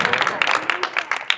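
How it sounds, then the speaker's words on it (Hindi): Students in a classroom clap together in a brief, close burst of quick, uneven hand claps. "बहुत अच्छा, ताली बजाओ"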